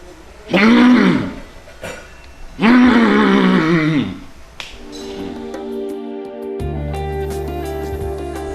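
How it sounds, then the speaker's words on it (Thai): A tiger roars twice, long and loud, each roar rising and fading alone, followed by quieter ringing tones and a steady hum, presented during a Thai broadcast about a tiger-skin amulet. "คุณผู้ชมจะได้ยินเสียงคำรามของเสือ อย่างชัดเจนนะครับ"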